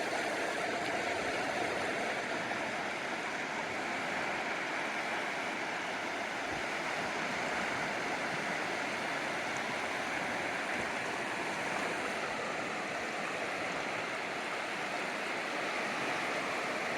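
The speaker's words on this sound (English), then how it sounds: "Waves" Waves wash steadily against a rocky lake shore on the Grand Traverse Peninsula, a dense, continuous surf roar with light wind rumble, close and loud throughout with no voices.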